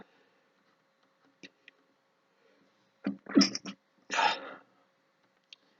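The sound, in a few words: sneezing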